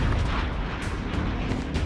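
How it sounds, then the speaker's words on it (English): Guided bombs from a B-2 bomber striking Serbian airfields on a night mission over Kosovo, played as a documentary inside a Minecraft session: a dense, continuous roar of rumbling blasts and booms, loud and unbroken throughout. "The aircraft shudder as they discharge 5 bombs from twin rotary pylons. The B-2's guided bombs strike Serbian airfields."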